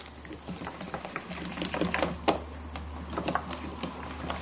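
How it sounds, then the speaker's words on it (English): Flour being lightly whisked into an egg and milk mixture for cockle fritters, a soft, fast patter of whisk strokes in a bowl, close and steady with faint background noise. "just give that a light whisking so everything's mixed together."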